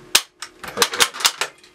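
A rifle's safety catch clicked several times in quick succession, crisp close mechanical snaps with no talk over them.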